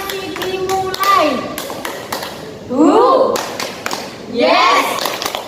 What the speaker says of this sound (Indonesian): Tepuk konsentrasi. Konsentrasi dimulai.